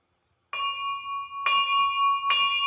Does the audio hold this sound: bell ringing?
yes